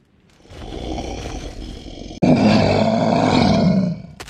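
Tigers approach a boy in a forest in an anime, with deep, growling roars in two long bursts, the second louder and rougher, close and filling the sound without talk.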